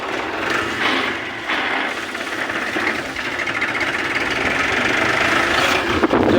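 A tractor engine runs steadily nearby with a continuous rough, knocking drone that holds at a fairly even level throughout and has no speech over it.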